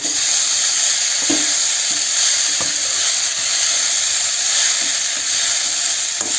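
Snack frying in hot oil in a small kadhai on a gas stove and stirred with a spoon, a loud dense continuous sizzle with a few soft scrapes and knocks of the spoon, no voices.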